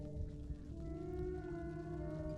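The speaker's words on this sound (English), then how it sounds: "I don't like the scary music." Scary music from the video game Little Nightmares: dark, sustained droning tones with low rumbling underneath, steady and moderately quiet, with no voices.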